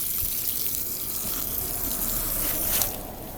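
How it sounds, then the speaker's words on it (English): A garden hose on its soaker setting watering planted soil outdoors, giving a steady, close, broadband wash of running water that continues unbroken, with no talking. "We're gonna put it on soaker and just soak that soil"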